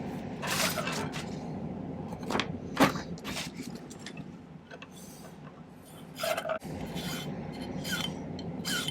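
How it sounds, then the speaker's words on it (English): A silver pendant stem being filed to a point at a silversmithing bench, with close rasping file strokes in irregular bursts and brief scraping touches between them, no talking. "I think I'm just going to start by filing this to a point."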